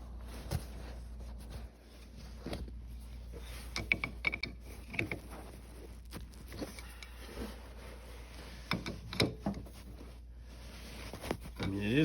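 Clutch basket lockup tool holding an ATC's clutch while a part is turned, giving scattered ratcheting and clicking metal mechanism sounds close by, with intermittent clanks over a steady low hum.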